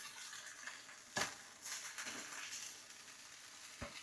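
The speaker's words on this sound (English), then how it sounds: "Flip bacon over." Bacon strips frying in a pan, a faint continuous crackling sizzle with a couple of sharp knocks as the rashers are flipped.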